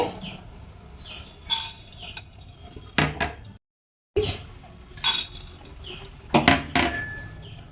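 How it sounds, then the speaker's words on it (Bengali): A metal wok, or kadai, set down on a gas stove in a home kitchen, giving a few sharp metallic clanks and scrapes in short bursts, close and fairly quiet, with brief pauses between. "আমি গ্যাসে একটা কড়া বসিয়ে দিচ্ছি"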